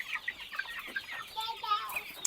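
Broiler chickens cluck in a poultry shed, short busy calls overlapping quickly and close by, moderately loud.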